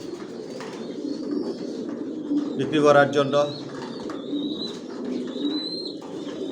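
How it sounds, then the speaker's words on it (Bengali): Johnson-line racing pigeons coo in a loft, a soft, continuous burble of several birds with one louder rolling coo near the middle, while someone speaks over them. "সব একই লাইনের কবুতর পালি, জনসনের।"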